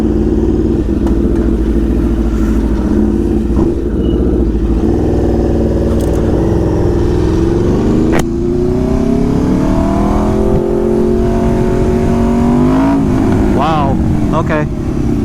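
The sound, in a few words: Aprilia RSV4 motorcycle with race exhaust accelerating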